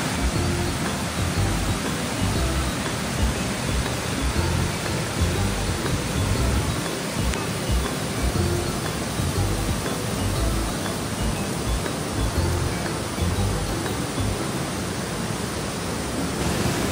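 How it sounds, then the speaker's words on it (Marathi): A roaring waterfall stream on the trail to Devkund pours out a loud, steady broadband rush of water, continuous and close, with no voices over it. "एका जबरदस्त अशा आवाज आणि मागा असा झरा आहे"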